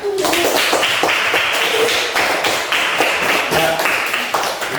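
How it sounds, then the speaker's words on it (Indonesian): A classroom of students claps in a Catholic religious education lesson, loud close rhythmic hand claps in short bursts with brief pauses between them. "Mari kita memberikan tepuk tangan."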